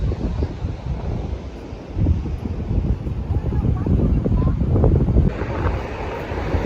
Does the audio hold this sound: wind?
yes